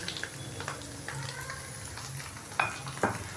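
Ginger, garlic and green chili paste sizzles and fries in a pan, a soft steady crackle with a couple of sharp stirring scrapes near the end, close and fairly quiet.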